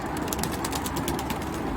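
Homing pigeons in a multi-storey loft coo and flutter together, a loud, close, continuous murmur with quick repeated high ticks layered over it.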